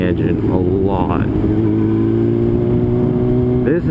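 A motorcycle engine idles and revs with a shaky, vibrating drone, steady and loud close by, with a brief rising rev near the end.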